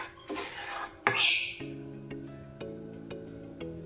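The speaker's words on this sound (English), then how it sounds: "Going to be adding our jeera. Just going to toss this about, just let it fry a little bit" Cumin seeds tossed about in a hot pan, a spoon knocking and scraping against the metal with a brief rushing sizzle early on, followed by a series of faint, evenly spaced clinks.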